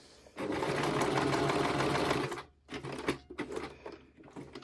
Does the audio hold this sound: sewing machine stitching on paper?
yes